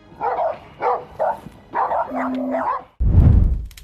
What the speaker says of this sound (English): These are not your dogs, are they?